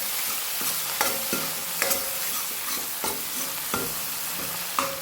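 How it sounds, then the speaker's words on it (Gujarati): Chickpeas stirred in a sizzling pan on a full flame, with regular scraping spoon strokes and light knocks against the metal repeating about once a second over a constant frying hiss. "સેજ ચણા મિક્સ કરી લઈએ."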